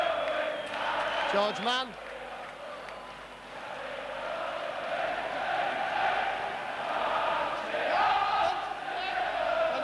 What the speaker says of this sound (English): The crowd going mad actually beside me.